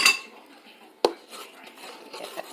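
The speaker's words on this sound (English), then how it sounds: "And then she's gonna stir." A spoon stirs wine into a sweet potato pudding mixture in a bowl, with a sharp clink against the dish followed by softer scraping and tapping, close and fairly quiet.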